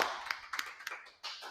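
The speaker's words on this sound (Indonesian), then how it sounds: "Tepuk tangan dong." A few sparse, uneven hand claps ring out close by, welcoming a pastor as a guest on a church podcast, with short gaps between bursts.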